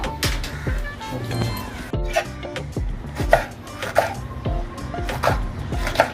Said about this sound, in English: Make small cubes of the vegetables.